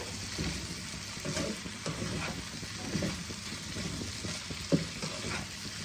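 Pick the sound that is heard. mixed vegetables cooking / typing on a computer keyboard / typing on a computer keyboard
mixed vegetables cooking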